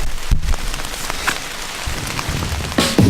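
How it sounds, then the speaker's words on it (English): Rain patters steadily on a tent during a canoe trip on the French River, a close, continuous soft hiss with occasional louder drops and thumps nearby. "It's raining out."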